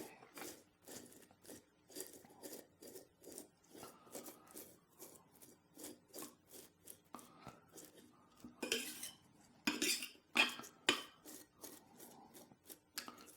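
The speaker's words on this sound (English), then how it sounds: "I'm going to be scraping the skin off of this poblano that I roasted on that grill" A knife scrapes the charred skin off a grill-roasted poblano chile in short, repeated strokes, soft and close, with a few louder scrapes toward the end.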